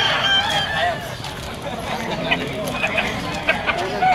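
A stag rooster crows amid the noisy bustle of a pet market in Malabon, with other fowl clucking nearby and people talking throughout.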